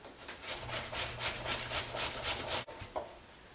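Cucumbers grated on a box grater, about ten even rhythmic rasping strokes close up, then a sharp knock and a stop.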